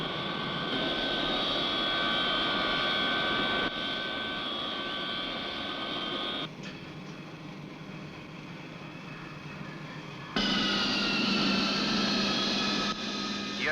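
Steady aircraft engine drone during a low runway landing approach, a continuous tonal whine that shifts in pitch and level across several abrupt changes, with faint voices at times.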